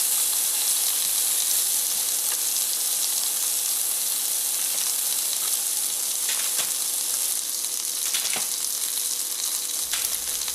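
Mushrooms and steak sizzling on a grill, a loud, constant bright hiss with occasional crackles and pops.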